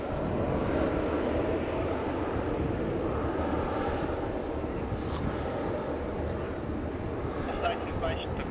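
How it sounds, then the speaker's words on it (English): A broad, steady roar of a jet airliner landing on runway 19 left at Brisbane Airport fills the scene, rumbling continuously from a distance with no clear breaks. "Airways landing on 19 left here at Brisbane Airport"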